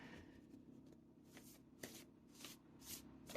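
Shaman's Dream Oracle cards being shuffled by hand, a series of soft riffling bursts repeating every half second or so, close and quiet, with no talking.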